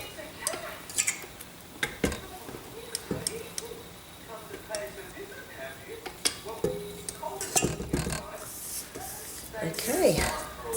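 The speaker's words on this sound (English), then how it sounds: "So I'll get my spatula again. Just scrape all the sides." A spatula scrapes around the sides of a mixing bowl of frangipane, with repeated scraping strokes and sharp taps against the bowl while a person talks over it.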